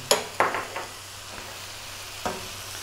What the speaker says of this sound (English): we're going to take that big piece of butter, drop that in